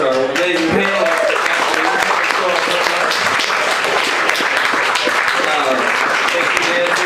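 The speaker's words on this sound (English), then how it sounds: "let's give a round of applause to our amazing panel" Applause from the audience at a music-industry business panel at the Rhythm N' Blooms festival: dense, sustained clapping fills the whole stretch with some cheering mixed in.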